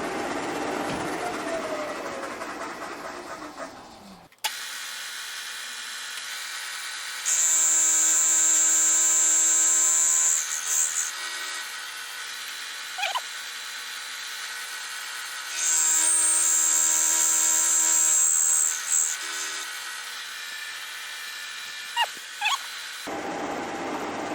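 Milling cutter climb milling a steel tailstock die holder for a large lathe, a steady machine whine with two louder, higher-pitched cutting passes of several seconds each, close and alone, with a few brief clicks.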